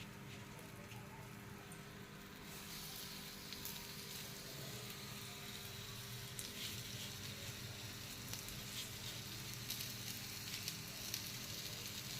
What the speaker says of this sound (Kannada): ಈಗ ಮೀಡಿಯಂ ಫ್ಲೇಮಲ್ಲಿ ನಿಧಾನಕ್ಕೆ ಫ್ರೈ ಮಾಡಿ ಬೇಕು ಅಂದರೆ ಮಧ್ಯೆ ಮಧ್ಯೆ ಸ್ವಲ್ಪ ಸ್ವಲ್ಪ ಆಯಿಲ್ ಹಾಕ್ಕೊಂಡು ಫ್ರೈ ಮಾಡಿ